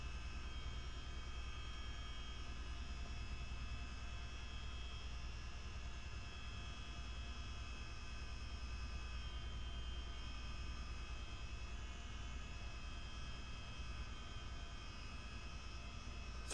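Twin engines of a CH-47D Chinook helicopter in a flight simulator game produce a steady, unbroken turbine drone with layered tonal whine, constant in level and heard alone for the whole stretch.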